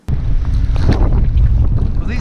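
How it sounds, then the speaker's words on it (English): Strong wind roars and buffets the microphone during a snowstorm on big open water on a duck hunt, a steady loud rushing gust with no clear speech. "The wind's kind of funky and the snow's killing us."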